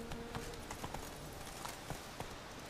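Roach, the horse in the video game The Witcher 3, moves at a gallop: quiet, steady hoofbeats drum along over a soft background.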